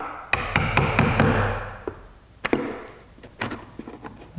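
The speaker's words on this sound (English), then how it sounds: "I'm just gonna take a small chisel, carefully make that flat." A small chisel taps and scrapes sharply against old caulk on a painted wood window frame, with a quick run of about six close, crisp knocks followed by a few softer scrapes and isolated taps.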